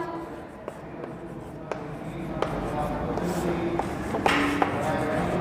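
Pen scratching out construction steps in a lined geometry notebook, soft continuous writing strokes with occasional light taps, close and quiet under faint room noise.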